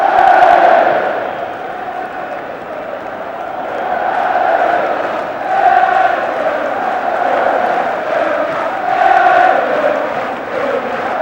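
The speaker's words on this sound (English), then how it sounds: "the biggest cheer of the lot reserved for the man who scored the goal in the 120th minute" A large football stadium crowd roars and cheers during a cup presentation at an Arsenal versus Sheffield Wednesday final replay, a dense, loud, continuous wall of voices that swells in waves, with a commentator's voice faintly underneath.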